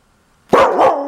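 A dog in a New York City home lets out a sudden, loud, close double bark after a moment of near silence, with no voices heard.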